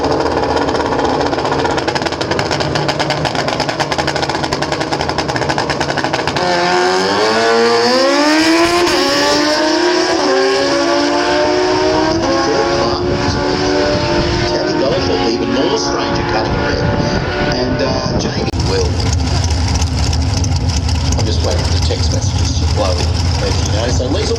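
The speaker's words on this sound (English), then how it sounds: "the pink bike in the speedway lane to head off, Tammy to chase by about half a second" Drag racing bikes launch down the strip at Willowbank Raceway, a constant loud engine roar with a rising, sweeping pitch as they accelerate away, then a steady drone, with commentary heard over it.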